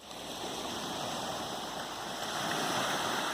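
Small, weak waves break steadily on the shore at Praia das Conchas, a continuous soft wash of water with no voices.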